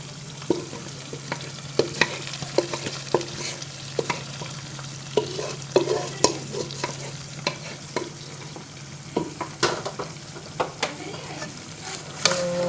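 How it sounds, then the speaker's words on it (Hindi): Chicken being stirred with masala in a pan, repeated scraping and clinking strokes of a spoon at an irregular rhythm over a low background sizzle. "गाइस, अभी हम इसको मिक्स करेंगे।"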